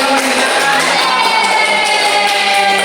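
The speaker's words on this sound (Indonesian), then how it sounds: "semuanya kita berikan tepuk tangan sekali lagi" A first-grade class of children cheers and claps loudly for classmates, a dense, close burst of clapping mixed with excited shouting and whoops that holds steady throughout.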